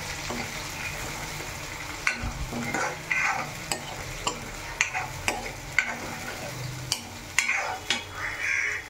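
A paste of onion, tomato, garlic and cashew fries in a pan, giving a soft continuous sizzle broken by repeated scraping stirs and spoon knocks at an irregular rhythm.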